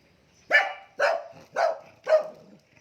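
A dog barks four times at an even pace, each bark sharp and close, clearly loud against a quiet background with no talking.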